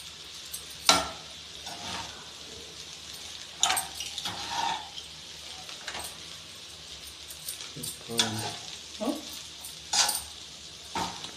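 A spatula scrapes and stirs vegetable fried rice in a pan with intermittent tossing strokes and a faint sizzle, close by, while someone talks.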